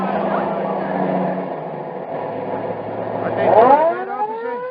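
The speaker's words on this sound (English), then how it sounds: "Let the ambulance get out." An ambulance siren wails in an old radio crime drama set at a hit-and-run scene; a loud, close siren tone rises and sweeps upward near the end over a low background rumble.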